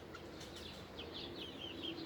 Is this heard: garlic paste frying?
no